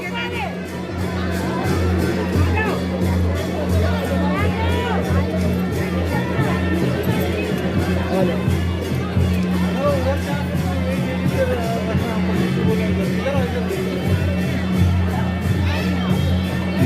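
Dense crowd of people at Manokamana Devi temple in Nepal during rain, a steady hubbub of many voices, shouts and cheers filling the space without pause, with nearby chatter over the top.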